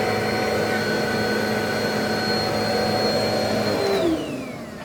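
A Bissell 1792 vacuum cleaner runs loud and steady with a high whine, then winds down near the end as the pitch drops and the motor slows.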